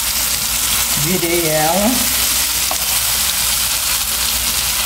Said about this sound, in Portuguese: deixa eu fritar aqui